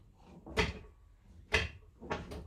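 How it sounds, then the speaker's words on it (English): Sliding door of a 2005 Honda Odyssey propped on a jack during a center roller replacement: three separate knocking, scraping bumps as the door is eased along, close and fairly loud, with quiet pauses between them. "Gently push the jack and control the door movement."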